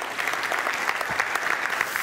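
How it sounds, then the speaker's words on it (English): A church congregation at New Hope claps in sustained, dense applause, many hands close together, steady for the whole stretch with no voices on top. "Thank you for applauding."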